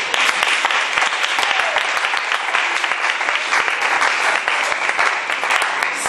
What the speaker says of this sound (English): Give a clap offering to the Lord Almighty.